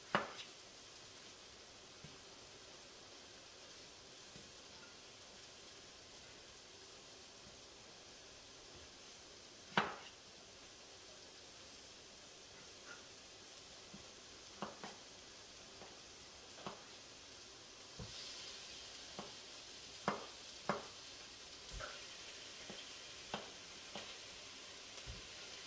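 Whole tomatoes tossed into a frying pan for spaghetti bolognese give a faint, steady sizzle, broken by scattered soft pops and spatters, with no talking.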